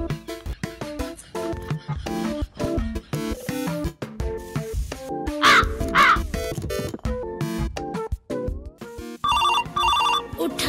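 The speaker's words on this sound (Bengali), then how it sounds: "স্যার আপনার গার্লফ্রেন্ড বৃষ্টি ফোন দিছে।" A mobile phone rings with an incoming call, a loud, busy electronic ringtone of choppy repeated tones and caw-like bursts playing continuously for about ten seconds in a comic Bangladeshi drama.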